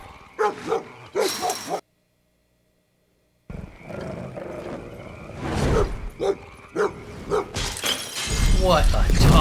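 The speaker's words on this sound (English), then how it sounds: "Damn, the dog just busts through the glass?" In a movie scene, glass shatters loudly as a dog bursts through a window, followed by barking and snarling. Voices react over the noisy, close action.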